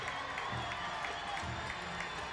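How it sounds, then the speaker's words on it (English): Crowd noise at a high school football game between North Augusta and Strom Thurmond, a dense steady roar of cheering spectators filling the stands, continuous and fairly distant with no clear breaks. "Crowd comes up, making a lot of noise on the Strom Thurmond side."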